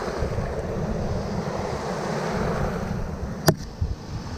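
Strong sea waves surging and washing continuously at sea, with steady rushing surf and wind buffeting the microphone, plus a couple of brief knocks near the end.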